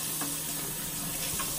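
Water runs steadily from a tap while a blue crab is cleaned, a constant soft hiss with faint clicks, fairly quiet and without voices.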